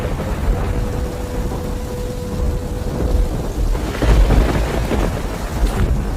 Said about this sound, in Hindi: बारिश में भीगते हुए गोपाल मेडिकल पर दवा लेने पहुंचता है।